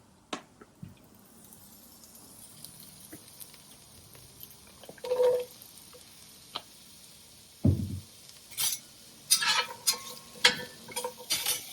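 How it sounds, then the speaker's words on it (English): Thinly sliced carrots being stirred in a pan, quiet scattered clicks and scrapes that grow into a cluster of louder knocks and clatters toward the end. "Stir to break everything up and add in our also thinly sliced carrots."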